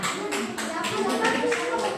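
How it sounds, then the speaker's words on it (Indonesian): A class of primary school pupils clapping together for a student group, rhythmic hand claps in a steady beat of about eight claps, close and lively, with voices talking over them. "Mari kita tepuk tangan untuk kelompok mendengarkan."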